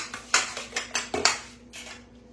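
Eggs being beaten in a bowl in a home kitchen: a short run of quick, light whisking taps and clinks, fairly close and with no talking.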